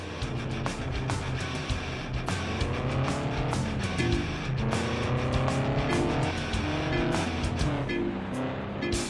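Cars race in the video game Ford Racing 2, engines revving through repeated rising gear changes with sharp tire squeals and rapid clicking effects, loud and busy throughout.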